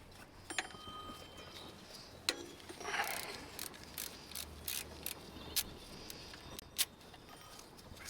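A ratchet wrench loosens the alternator bolts on a 2005 Honda Accord, with soft clicking ratchet strokes and metallic taps, faint and close in a quiet space.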